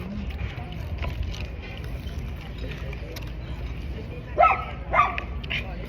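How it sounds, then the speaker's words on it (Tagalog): Two sharp barks from a dog reacting to another dog ring out close together outdoors over steady background noise, with faint voices nearby. "Yung aso niya pag may nakikita ng aso, nagwawala."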